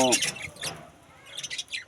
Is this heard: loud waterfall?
no